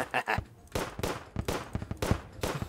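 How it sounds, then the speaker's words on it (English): A revolver in the video game Terraria fires meteor shot, a series of sharp synthetic gunshot bursts at irregular intervals of roughly half a second, fairly loud and close, with no speech. "This revolver. And the one I buy is unreal, of course. Okay, here's a meteor shot."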